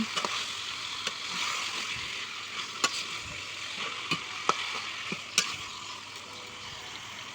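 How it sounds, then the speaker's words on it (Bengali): Chicken and fried onions sauté in a karahi over a clay village stove, giving a steady close sizzle with a few sharp clacks of a spatula scraping the pan and no talking. "পেঁয়াজগুলো ভেজে মাখানো মুরগির মাংসটা এখন কষিয়ে নিচ্ছি"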